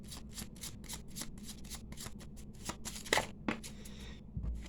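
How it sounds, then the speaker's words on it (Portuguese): Tarot and gypsy cards being shuffled on a table, a steady run of quick papery riffles and flicks up close, with a couple of sharper card snaps near the end and no voices. "a gente volta e segue embaralhando"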